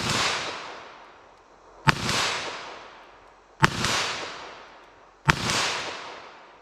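Three sharp, evenly spaced .22 rimfire gunshots ring out during target shooting, each crack followed by a long, fading outdoor echo.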